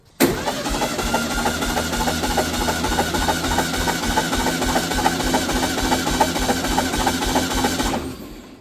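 A classic VW Beetle engine cranks over steadily on the starter during a compression test, a loud, even mechanical churning rhythm that runs for about eight seconds before stopping.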